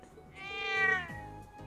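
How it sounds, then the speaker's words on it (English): A cat in the video game The Legend of Heroes: Trails of Cold Steel lets out one drawn-out, rising-and-falling meow, close and clear over a soft, low musical background. "Crow started playing with the cat."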